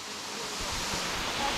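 A waterfall on a hike in St. Vincent rushes with a dense, steady hiss of falling water, fairly close and loud, with a few faint low bumps and no clear speech.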